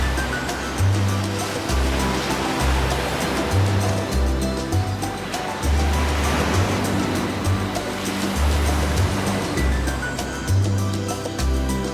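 Sea waves wash steadily onto a beach on the Greek islands of Poros and Aegina, a continuous broad roar of surf with a low rumble underneath, no voices.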